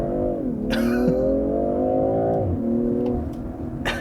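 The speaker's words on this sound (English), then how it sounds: "Let's first try doing a little launch with this thing." A 2020 BMW M340i, rear-wheel drive with a straight-six engine, launches hard from a standstill. The engine roars loudly and steadily, its pitch climbing smoothly through one gear before dropping at a shift and rising again, heard from inside the car without speech.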